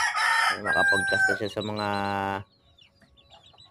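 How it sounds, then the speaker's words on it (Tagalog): A red junglefowl rooster crows nearby, one long, loud, harmonic call that cuts off abruptly, followed by faint background noise; a voice speaks briefly at the start. "ito yung pang-apat na tandang ko na labuyo"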